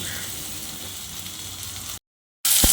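Onion and chopped capsicum sizzle steadily in a pan for white sauce pasta, a close, even hiss that cuts out briefly and then returns louder with a stir or clatter.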